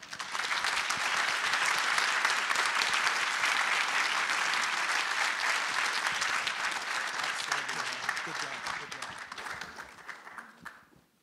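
A conference audience gives keynote speaker Eben Upton, founder of the Raspberry Pi Foundation, a loud, sustained round of applause that holds steady for several seconds and then tapers off toward the end.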